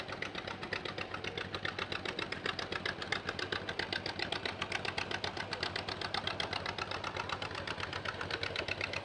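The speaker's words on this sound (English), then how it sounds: "the South Georgia Antique Tractors" Antique tractor engines, including a big International, idle in a parade with a steady, rapid putt-putt knocking rhythm, loud and close, running continuously without talk.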